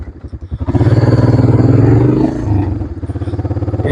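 Honda 300 Fourtrax ATV engine running on a test ride, a loud, close, throbbing four-stroke drone that revs up and holds steady, then dips and pulses again, with some rattly clatter and no talking.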